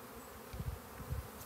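Honeybees hum at an open hive during a routine weekly inspection of a colony with queen cells, a low steady drone swelling in two short bursts over a quiet background.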